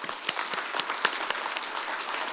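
Audience at a business culture forum applauding after a speech, with a steady patter of many hands clapping at moderate distance, fairly quiet and even with a few sharper claps standing out.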